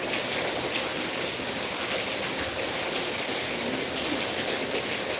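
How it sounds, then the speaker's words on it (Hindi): Heavy rain pours down in a dense, continuous hiss, loud and unbroken throughout with no voices over it. "बारिश इधर भी बहुत तेज़ है"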